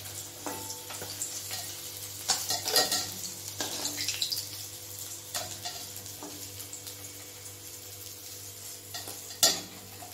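Rohu fish frying in oil in a pan gives a steady, moderate sizzle with occasional clinks of a utensil against the pan and one sharper knock near the end; no one speaks.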